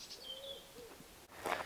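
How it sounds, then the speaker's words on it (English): Birds calling at a wooded campsite with picnic benches in shade, a few thin whistles and a soft coo spread across a quiet background, faint and moderately distant. "Birds are singing."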